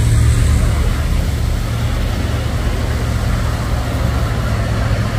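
Engine of a pink tourist bus on a hill road, a continuous low rumbling drone heard steadily and fairly loud throughout, with no one talking.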